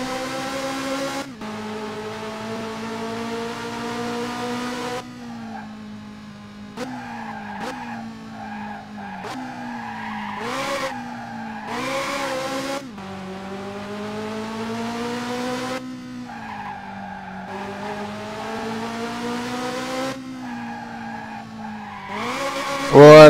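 A Ferrari F355 in the F355 Challenge racing game squeals its tyres in repeated long skids, loud and close, while the engine note rises and falls between slides.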